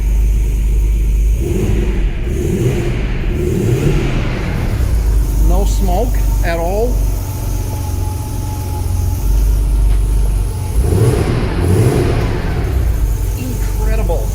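A 1979 Porsche 930 Turbo engine runs steadily with a deep, constant rumble close by, while a person speaks briefly over it.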